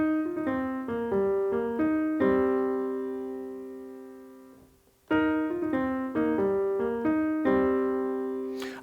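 Solo blues piano riff played using only the lower notes, two clear passages of struck intervals and single notes, the first ringing out and fading to near silence before the riff starts again.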